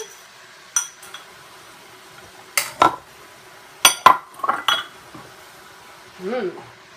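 Thai sauce being stirred into a pan of food, heard as scattered clinks and scrapes of a utensil against the pan in short bursts, close by, with quiet stretches between.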